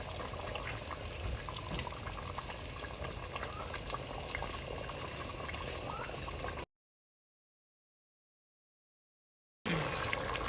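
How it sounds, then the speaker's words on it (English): Milk poured into a frothy bubbling butter and flour roux in a pan for vegan lasagna, a steady close bubbling, pouring wash of liquid that runs for several seconds, then cuts out and briefly resumes. "Go ahead, Mason, pour the milk in. Ooh, I love that sound."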